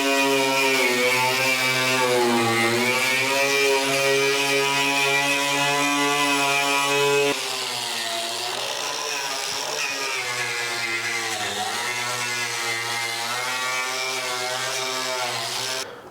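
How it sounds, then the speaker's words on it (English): A spinning wheel power tool grinds on car body work with a loud, continuous whine rich in harmonics, its pitch and strength dipping midway, then carrying on steadily for the rest. "Let's see how the spinning wheel of death works."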